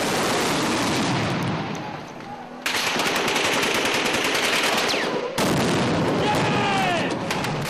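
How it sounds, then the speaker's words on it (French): Heavy weapons fire in a battle between rebel fighters and Gaddafi forces near Tripoli, with dense bursts of gunfire and booming cannon and rocket shots, loud and continuous, with brief lulls and renewed volleys. "C'est un duel au canon qui s'engage."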